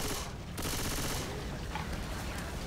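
Submachine gunfire in Left 4 Dead 2, a rapid dense stream of automatic shots that keeps firing through the whole short burst, loud and close with a brief dip near the start.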